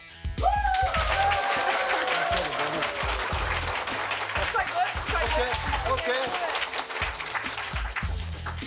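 Audience clapping to vote for a favourite singer at a live song contest, a sustained burst of loud applause that runs the whole time, with voices mixed into the crowd noise.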